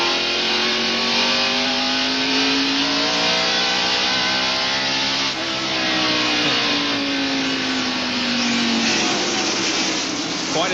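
A stock race car engine at the 1991 Tyson Holly Farms 400 NASCAR race howls loud and continuous, its pitch sweeping up and down through long revving passes, with faint commentary underneath.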